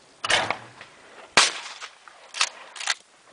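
Shotgun shots fired at clay targets outdoors at dawn, several sharp reports spaced irregularly over a few seconds, moderately close, with no talk.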